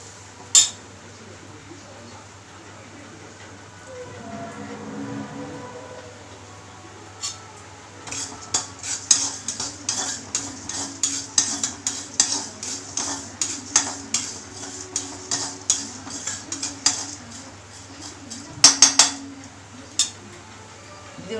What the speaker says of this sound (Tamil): நல்லா வறுபடணும் வறுபட்டால் தான் வந்து அரைக்கும் இல்லைன்னா அரையாது